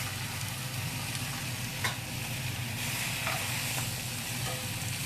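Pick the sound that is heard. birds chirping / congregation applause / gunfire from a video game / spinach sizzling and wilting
spinach sizzling and wilting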